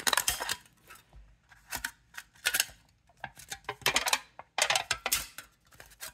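Snips chew through the thin aluminum of a beer can in short, crisp, crunching bursts, each a few quick snips separated by pauses, close and alone.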